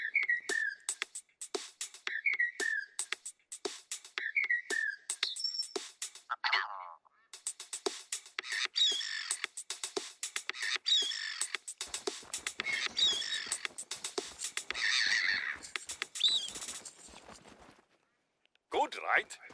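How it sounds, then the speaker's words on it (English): A short novelty tune pieced together from recorded bird calls, with repeated chirping whistles in rhythmic bursts that shift into denser, busier passages, fairly close and clear, ending in a brief pause and final note. "We recorded the call of some birds and made this."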